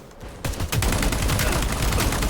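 Gunfire in a Valorant-like mobile shooter game: a couple of quick shots, then a loud, sustained burst of rapid automatic fire with echoing impacts, close and dense.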